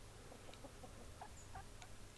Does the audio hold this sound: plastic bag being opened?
no